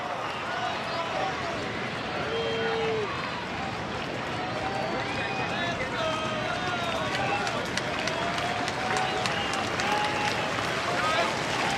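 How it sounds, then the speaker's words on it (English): A Baltimore Orioles home crowd at a ballpark cheers and roars steadily in the ninth inning of a game against Toronto, a broad, sustained wash of noise under continuous commentary. "The Baltimore crowd trying to rally on Smith and the Orioles here in the ninth"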